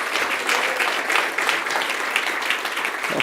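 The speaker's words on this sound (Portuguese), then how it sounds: "aplauda forte o nome dele" A church congregation applauds loudly and continuously during a Portuguese-language service, many hands clapping in a thick, even roar.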